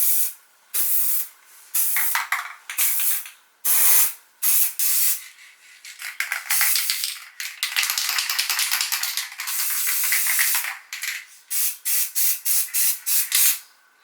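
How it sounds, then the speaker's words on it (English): Short bursts of white spray paint from an aerosol can on small craft pieces, a series of close, loud hissing sprays separated by brief pauses, with one longer continuous spray in the middle. "I'm just going to spray paint these little bad boys in those colours."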